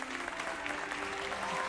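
A short burst of continuous clapping from a group, steady and moderately faint, in the Hogwarts Legacy video game.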